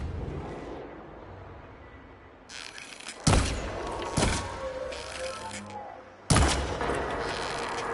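Gunfire at a machine's arm coupling in Horizon Forbidden West: several sharp, loud shots crack over a low rumbling game background, with gaps of a second or more between them.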